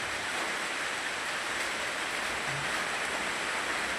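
Steady, soft rain falls in the early morning, a continuous even hiss of drops with no talking and no breaks.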